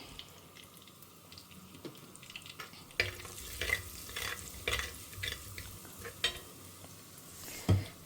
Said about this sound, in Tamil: கடுகு ஜீரகம் பொரிய ஆரம்பிச்சுடுத்து பெருங்காயம் போட்டுடலாம்